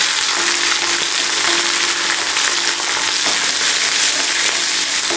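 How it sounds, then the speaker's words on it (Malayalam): Green chillies sautéing in hot oil for a sprouted green gram mezhukkupuratti give off a loud, continuous frying sizzle, with faint stirring scrapes and no voices. "ആദ്യം നമുക്കൊന്ന് പച്ചമുളക് ഒന്ന് എണ്ണയിലിട്ടൊന്ന് വഴറ്റാം"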